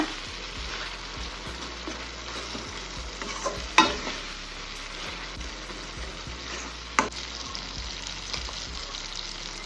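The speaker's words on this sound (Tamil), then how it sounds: "தக்காளி பாதி வெந்ததுக்கப்புறம் மஞ்சத்தூள் சேர்த்துருக்கேன் நல்லா மசிச்சு விட்டுருங்க தக்காளியை" Half-cooked tomatoes with turmeric sizzle steadily in a pan for a capsicum masala while being mashed and stirred, with a couple of sharp scraping clicks from the spatula over a continuous close fry.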